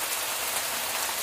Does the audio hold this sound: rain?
yes